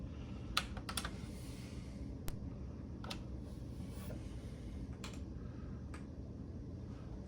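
Keys clack on a MEGA65 computer keyboard, a handful of sharp, separate presses spaced irregularly over a low background hum, close and fairly quiet with no voices.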